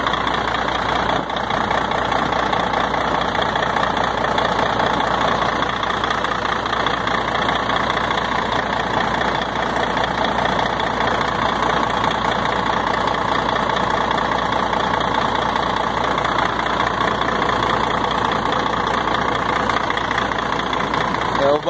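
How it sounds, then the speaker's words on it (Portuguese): Volvo FH12 truck engine idling during a roadside repair, a loud, steady diesel rumble with an even knocking rhythm throughout, while people talk nearby. "O barulho do motor tá bonito."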